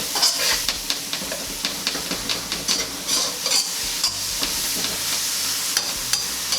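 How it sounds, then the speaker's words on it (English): Oil and chives sizzle in a wok while being stirred, with repeated scraping strokes of a utensil against the metal over a constant close hiss; no one speaks. "mix it around the wok"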